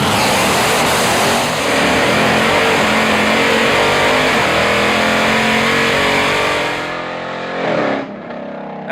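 A 1968 Dodge Charger with a supercharged 707 hp Hellcat engine launches down a drag strip, a loud continuous roar and supercharger whine climbing quickly through the gears before fading away near the end.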